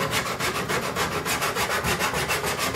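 A steel chisel rubbed back and forth on a Harbor Freight diamond sharpening block, making a steady, rhythmic, gritty scraping of regular strokes, close and continuous, with no voices.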